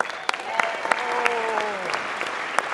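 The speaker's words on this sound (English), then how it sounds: "we'll give them a big round of applause" Audience applause for new professors at a spring convocation, a steady wash of many hands clapping across the whole stretch, with a faint voice threading underneath.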